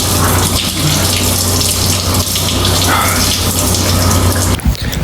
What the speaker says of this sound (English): this hot shower is definitely something to like this is on another level